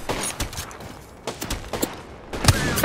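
Wingman pistol fired in the Apex Legends video game, heard as several sharp separate shots spread unevenly through a busy battle mix, moderately loud with background gunfire.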